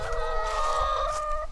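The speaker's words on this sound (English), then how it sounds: "Hi, chickens. What are you doing, chickens?" Chickens clucking steadily near a beehive yard on a windy fall day, sustained vocalizing through the whole stretch over low wind rumble.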